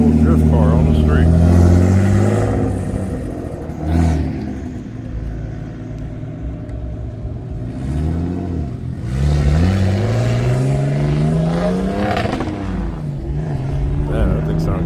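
An old drift car's engine rumbles and revs on the street at a car meet, with several rising and falling throttle blips under people talking nearby.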